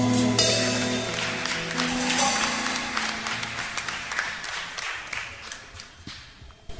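Sustained applause from a church congregation fills the space, gradually fading, with music tones lingering underneath.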